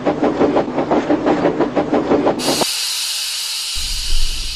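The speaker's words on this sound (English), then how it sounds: "he shut off the steam and began to put on the brakes" A steam locomotive chuffs in rapid rhythmic puffs, then a loud continuous hiss bursts out as the steam is shut off before braking, followed by a low rumble.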